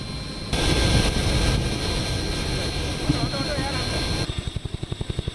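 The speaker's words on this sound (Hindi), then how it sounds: "बीती शब लड़ाका हेलीकॉप्टर अपाचे ने उड़ान भरी।" An Apache attack helicopter flies on a night combat sortie over Ladakh, a broad loud turbine and rotor roar filling the air, ending in a rapid rhythmic blade chop close by.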